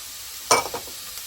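Onions and green peppers in oil in a pan, a steady low sizzle with a brief utensil stir scraping through it, close and alone.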